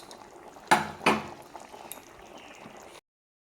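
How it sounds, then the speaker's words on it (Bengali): Gravy with stuffed pointed gourd simmers in a pot with faint, soft bubbling. Two sharp utensil clinks ring out near the start, and the sound then cuts to silence. "তো একটু ঝোলটা ফুটলে আমি নামিয়ে নেব।"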